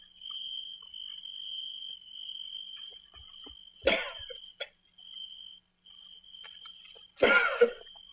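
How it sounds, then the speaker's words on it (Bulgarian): An old man coughs in two loud, harsh bursts spaced a few seconds apart, with a few softer throat sounds between them, over a steady high insect-like tone. "Това дедо кашля."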